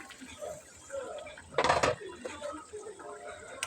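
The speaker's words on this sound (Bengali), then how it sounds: "এখন একটা ঢাকনা দিয়ে ডেকে দিব" A metal lid is set onto a pan of cooking rui fish do pyaza, producing a single brief clattering clank midway while a voice talks around it.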